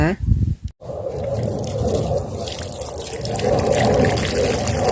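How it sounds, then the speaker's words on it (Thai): Tap water runs steadily and splashes as caladium bulbs and roots are washed, after a brief cut near the start. The flow is loud and close, swelling slightly toward the end. "ล้างเลยค่ะเพื่อน ล้างทำความสะอาดนะคะ"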